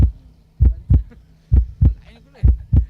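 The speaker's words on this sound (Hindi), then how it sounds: "धड़कनों की आवाज सुनाई दे रही है" Heartbeat sound effect played over loudspeakers by a DJ at a local cricket match, deep paired thumps repeating in a steady lub-dub rhythm, three double beats, loud over a faint hum.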